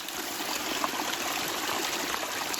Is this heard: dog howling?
no